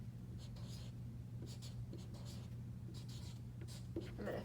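A pencil scratches on paper in short, repeated strokes, quiet and close, over a low steady hum.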